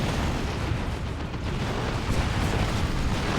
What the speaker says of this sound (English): Oh, stick bombs. Wondered what all the explosions were.